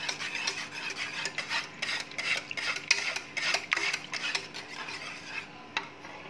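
Cream being stirred into cooled mango custard in a bowl, a soft scraping and rubbing of a spoon against the bowl in uneven strokes, close and fairly quiet with no talking.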